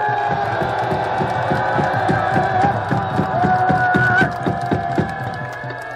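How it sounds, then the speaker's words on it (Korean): A crowd at a Korean political rally roars and shouts together on request, a loud sustained mass of voices over a rhythmic pulsing drum beat. "그러면 함성으로 한번 해보세요."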